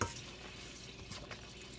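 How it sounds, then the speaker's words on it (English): Low, steady sizzle of oil heating in a skillet, a soft continuous hiss with a few faint crackles, no talking. "You can hear my oil heating up in the background over here in my skillet."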